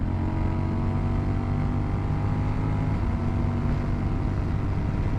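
Honda Rebel 1100 cruiser motorcycle pulling hard under acceleration, a loud continuous engine drone with steady rumble and wind noise throughout.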